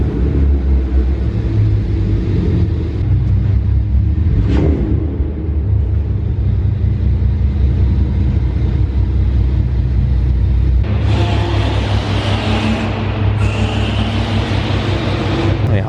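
Car engine with muffler and resonator deleted, a deep steady idle rumble throughout, swelling with a brighter raspy roar near the end, loud and close.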